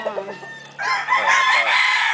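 Gamefowl stags and chickens at a farm in Caoayan, Ilocos Sur: soft nearby clucking gives way to a loud, close rooster crow lasting over a second, with a voice faintly in the background.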